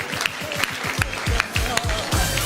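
Scattered clapping from a small group, uneven sharp claps over a few seconds, fairly close, with a faint voice mixed in.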